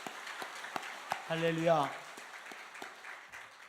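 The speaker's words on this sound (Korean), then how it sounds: "우리 박수로 환영해 출발합니다." Congregation applauding during a Sunday service at a Korean Full Gospel church: scattered, sparse claps heard close by, while a voice calls out loudly partway through.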